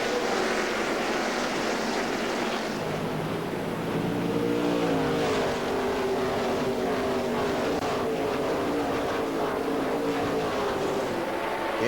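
Busch Series stock cars roar around Gateway at a 2005 race restart, a dense, steady engine drone with rising and falling pitches as the field accelerates, loud and continuous throughout.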